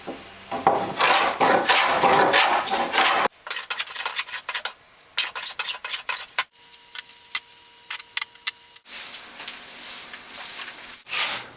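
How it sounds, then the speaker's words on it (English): Walnut tabletop boards are planed by hand in repeated rasping strokes, each a loud scraping burst separated by short pauses, close up, with no talk. "Now I'm in the process of planing the tabletop walnut boards."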